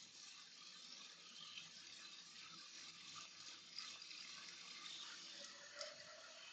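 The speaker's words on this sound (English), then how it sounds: "I'm just gonna put some water in a pickle jar." Water running from a tap to fill a pickle jar for watercolor painting, a steady close hiss of flow lasting throughout with no talking.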